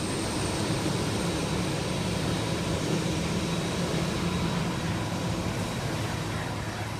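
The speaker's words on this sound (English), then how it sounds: "Air Force One refers to one of two customized Boeing 747-200B series aircraft" A Boeing 747-200B jet, the Air Force One aircraft, gives a steady, broad engine roar that holds evenly throughout at moderate level, with no voices.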